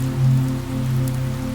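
Rain falls in a soft, even patter, continuous and close, under a low sustained tonal drone, with no talking.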